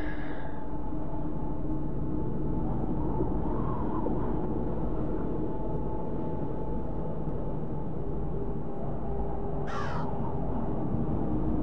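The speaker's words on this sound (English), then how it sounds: "Why is the sound coming from there? The crow's over there." A crow in the video game Root of Evil: The Tailor caws loudly once at the start and again near the end over a constant, dense low ambient rumble.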